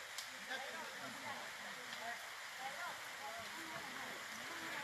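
A mountain stream flows steadily during a group hike descending toward San Giovanni in Fiore, a constant rushing hiss of water with faint voices scattered through it.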